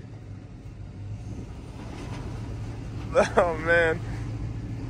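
A Chevy OBS truck with a plow attached climbs a steep ramp in four-wheel drive, its engine a steady low drone throughout, with a short voiced exclamation near the end.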